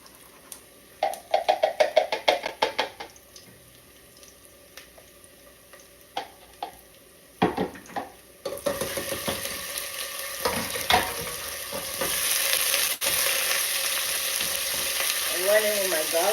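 Garlic and beef frying in a pan, with stirring clatter and scraping early on, then a steady loud sizzle building and holding through the second half; close and continuous, no talk.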